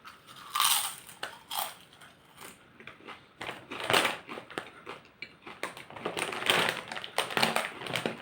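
Pizza-flavored potato chips crunch between the teeth in close, uneven bursts of crisp cracking and chewing, with quiet pauses between bites.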